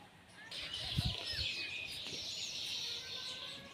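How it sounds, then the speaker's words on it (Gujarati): Birds chirping and calling outdoors, several overlapping high tweets against a soft background hum. "આ પંખીનો શોર બકોર"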